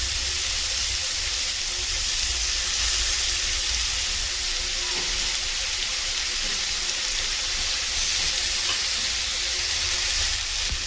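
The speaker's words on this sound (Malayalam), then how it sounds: "നമ്മുടെ കൂണ് അത് ഞാൻ എടുത്തിടാൻ പോവുകയാണ്. ഒന്ന് ഇതിനെ ഒന്ന് നമുക്ക് ഒന്ന് എണ്ണയ്ക്കകത്തിട്ടിട്ട് ഒന്ന് വഴറ്റാം." Mushrooms sautéing in oil for a curry, a loud, dense, continuous sizzling hiss that stays even throughout with no talking.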